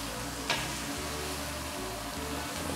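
A steak charring on both sides in a hot pan gives off a steady, fairly quiet sizzle, with one brief crackle partway through.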